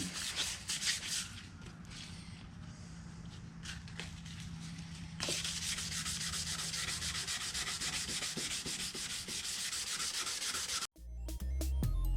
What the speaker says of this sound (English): I'm gonna start with my 320